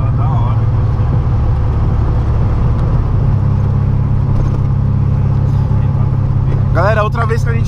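A Garrett 48/35 turbocharged, lowered rear-wheel-drive VW Fusca engine drones loudly and steadily up close with a rev-limiter cut, under continuous talk that ends in a short burst of higher-pitched sound.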